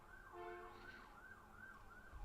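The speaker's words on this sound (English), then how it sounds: "The ambulances are here." An ambulance siren wails outside, its rising and falling tone carrying steadily at moderate distance with no voices over it.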